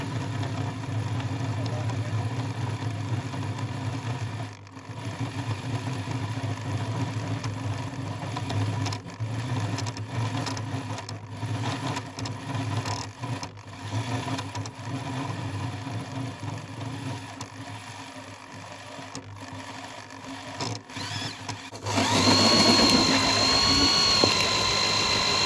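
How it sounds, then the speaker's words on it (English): A drill bores slowly through the steel bow deck of a narrowboat outdoors while drilling oil is sprayed into the cut, giving a steady grinding whine with short pauses and a louder, higher squeal near the end. "So we're outside drilling. I've got John and Paul helping, spraying drilling oil into the cut"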